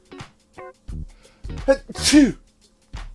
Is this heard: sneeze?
yes